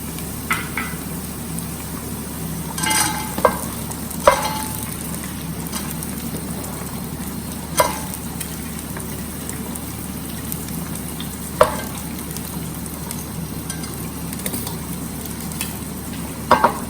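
Vegetables fry in a pot with a soft, continuous sizzle, broken every few seconds by a sharp clank or scrape as a utensil stirs against the metal, close by with no talk.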